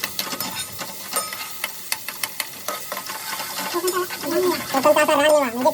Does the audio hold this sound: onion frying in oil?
yes